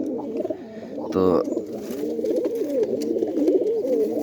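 Close, continuous cooing from a golamadi giribaz pigeon, soft rolling coos repeating throughout, with a brief flutter partway through and someone speaking over it.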